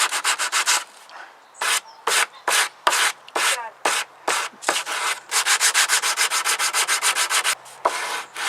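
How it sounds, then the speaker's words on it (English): Bosch belt sander rounding off the corner of a wooden kitchen table top, loud bursts of abrasive rasping in short repeated passes, speeding into a quick rhythmic run of strokes near the end. "finish off rounding off the corner with my Bosch belt sander"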